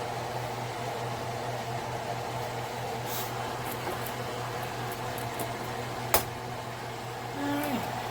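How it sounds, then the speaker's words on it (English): A small cooling fan runs beneath an electric two-ring 30 cm ceramic hob burner, a steady, even whirring hiss throughout, with a single brief click near the end and no talking. "each burner has a sufficient fan under it to keep it cool"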